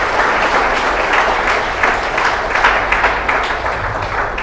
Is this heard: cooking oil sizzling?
no